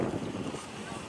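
Wind buffets the microphone outdoors at a karapan sapi bull race, a steady rumbling roar with no clear breaks, close and fairly loud throughout.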